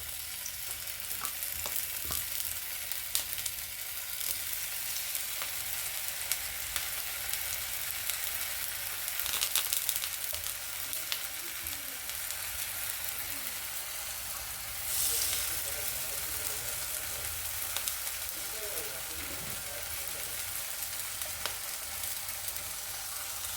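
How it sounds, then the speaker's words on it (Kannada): Brinjal (eggplant) slices fry in oil over a low flame, giving a steady, fairly quiet sizzle with occasional crackles and stirring scrapes throughout. "ಫ್ರೈ ಮಾಡ್ಕೋಬೇಕು."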